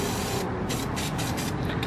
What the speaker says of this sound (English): so I'm gonna spray it black.